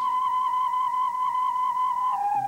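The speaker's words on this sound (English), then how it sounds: "When I swing it fast, listen to the pitch." A whirling tube toy swung fast gives a steady, clear whistling tone with soft overtones, holding one high pitch before shifting slightly near the end, alone and fairly loud.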